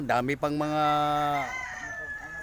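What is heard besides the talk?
fighting roosters crowing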